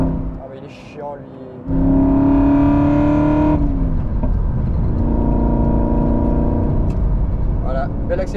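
An Aston Martin Vantage accelerates hard from about 3000 rpm, its engine snarling loud and steady for several seconds before settling into a lower sustained drone, with brief talk over the start.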